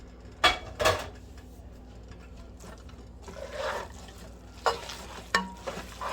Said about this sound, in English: We're going to add our bacon.